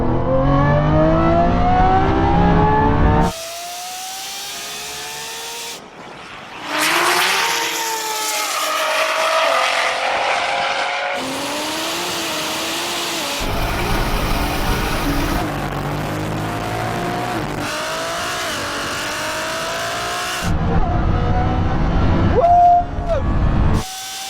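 A BMW M140i and a Lamborghini Revuelto launch side by side in a rolling half-mile drag race, loud engines climbing through rising gear sweeps with abrupt cuts between onboard views.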